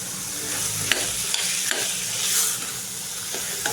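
Chana bhaji being stirred in a pan, a steady frying sizzle with scraping spoon strokes against the metal at irregular intervals, close and continuous with no voices.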